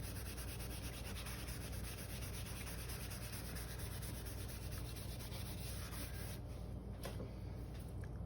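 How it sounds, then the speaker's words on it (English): Soft pink pastel scrubbed firmly into paper, a steady close dry rasping and rubbing that runs continuously throughout without pause. "And then that pink I'm gonna really scrub in."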